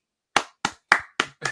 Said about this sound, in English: Big clap to us.